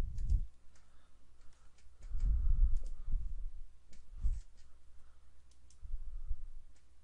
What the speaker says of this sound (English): I'll click OK